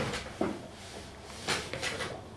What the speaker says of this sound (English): table's creaking